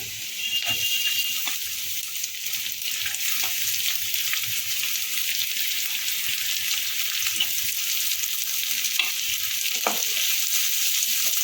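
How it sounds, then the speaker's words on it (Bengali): Chopped onions fry in a pan for a dhaba-style egg tadka, giving a steady, close sizzle throughout with a few soft stirring taps, and no voices. "পেঁয়াজটা একটু ভেজে নেব"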